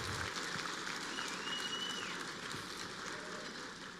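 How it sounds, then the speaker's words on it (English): Audience applause at a banquet dinner at a freedom-themed conference, a steady, fairly faint wash of clapping lasting a few seconds with no break. "Let's give them a round of applause."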